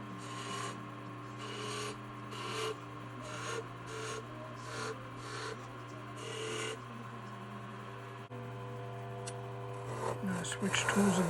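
Lathe tool cutting into a stave of windfall maple branch being turned into a wand, a steady scraping rasp in repeated bursts over a constant motor hum, growing louder near the end.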